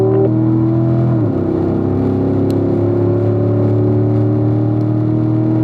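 A race car opens up on the front straightaway of the Ron Fellows Springhill track, its engine droning loudly and steadily as it shifts up toward fifth gear, with a pitch drop at the upshift before the tone settles and climbs again.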